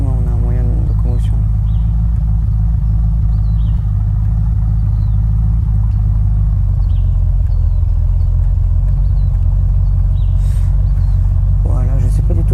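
Steady in-game car engine in Unturned, a loud continuous low drone holding throughout with a slight shift in pitch midway, briefly overlaid by bursts of harmonic voice-like sound.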